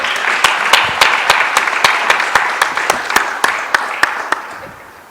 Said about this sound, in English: I think they deserve a very warm applause from all of you and all of us.